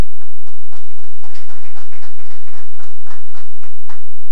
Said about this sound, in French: je vous demande aussi d'applaudir